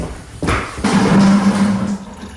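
Coolant drains from a disconnected water pump hose on a Porsche Boxster 987.1, a close, steady trickle and gurgle of liquid that starts abruptly and runs for over a second before easing off.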